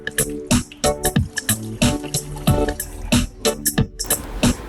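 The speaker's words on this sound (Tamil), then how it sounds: "இப்போ இந்த இலைய லைட்டா வாஷ் பண்ணிக்கலாம்" Herb leaves gathered for a home fever and cough remedy are rinsed by hand in water, with repeated splashes, drips and wet squishes in an uneven rhythm close by, and no talking.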